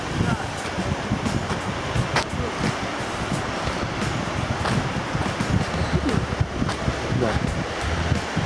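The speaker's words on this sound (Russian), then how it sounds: "А там ветер дует." Gusty wind at an outdoor viewpoint over a former railway bridge, a steady broadband roar buffeting the microphone throughout, with people talking faintly underneath.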